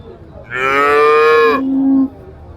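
A red-brown dairy cow lets out a single loud, close moo lasting about a second and a half, dropping into a lower, drawn-out tail before stopping.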